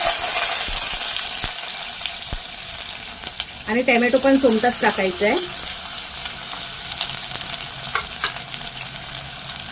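Oil sizzles and crackles steadily in a pan as mustard seeds and onion fry, close up, with light scraping of stirring and a voice talking briefly over the frying.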